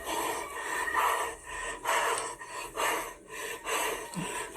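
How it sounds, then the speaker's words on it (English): A frightened person breathes heavily and close to the microphone, rhythmic rasping inhales and exhales repeating about once a second, loud against a quiet background. "He's still breathing hard."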